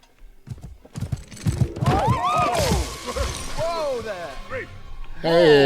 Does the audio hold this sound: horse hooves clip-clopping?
yes